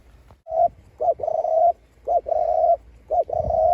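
Three rounds of soft, low cooing from a dove, each a short note followed by a longer sustained coo, close and clear with quiet gaps between.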